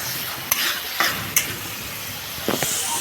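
Spice paste with salt and turmeric frying for a Bengali koi fish curry, a steady hissing sizzle with occasional scraping stirs of a spatula close by.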